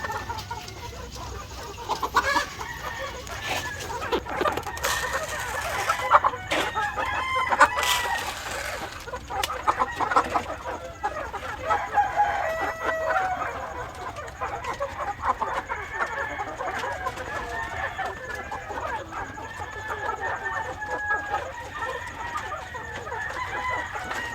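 A flock of chickens being fed clucks and squawks continuously nearby, with rooster crowing calls rising over the chatter in the first half.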